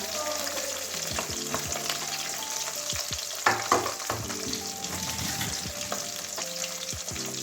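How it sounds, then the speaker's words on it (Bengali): Tengra fish fry in oil over a very low flame, giving a continuous bubbling sizzle with dense small crackles and pops and a few louder spits midway, with no one talking. "আঁচটা একদম কমিয়ে দিয়েছি অনেক সময় ফাটে মাছগুলো ওই জন্য একদম আটটা কমিয়ে রান্না করছি"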